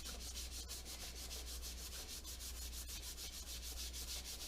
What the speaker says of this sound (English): Get your Scotch-Brite and just start scrubbing.